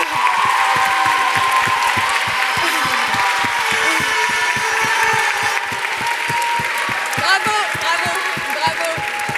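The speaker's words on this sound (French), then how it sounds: "Sous un tonnerre d'applaudissements, je vous demande d'applaudir Saint-Germain qui monte sur scène." Sustained applause at an award ceremony final in Grenoble, steady and rhythmic like a large crowd clapping in time, loud and continuous with a faint voice over it.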